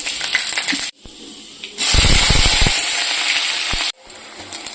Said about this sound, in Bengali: এবার শুকনো লঙ্কা আর হচ্ছে তোমার এই 5 ফোড়ন দিয়ে দেবো